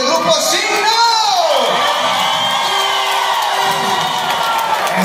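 A concert crowd at a theater cheers and whoops loudly, with shouts and yells layered over general crowd noise in a continuous, energetic roar.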